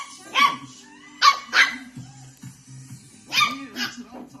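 A pet dog barks at a box it treats as an intruder, giving several sharp, close barks in two clusters with short gaps and low growly sounds between, heard alone without talk.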